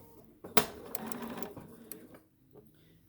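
A sewing machine stitches pieced half square triangles in a short mechanical run of rapid clatter that starts with a sharp click and fades into quiet handling sounds, close and alone.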